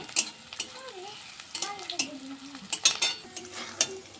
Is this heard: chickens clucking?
no